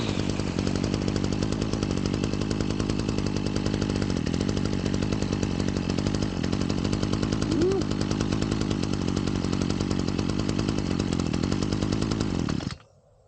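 A Proyama 26cc 6-in-1 two-stroke gas engine tool runs loud and close with a steady buzzing idle and rough, pulsing firing for about twelve seconds, then cuts off abruptly.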